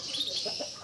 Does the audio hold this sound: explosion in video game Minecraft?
no